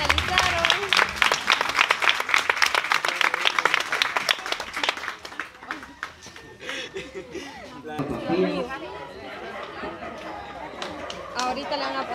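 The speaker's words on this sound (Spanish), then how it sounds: "fuertes aplausos" Loud, dense applause from a crowd at a quinceañera celebration fills the first five seconds, then fades into murmuring chatter and scattered voices.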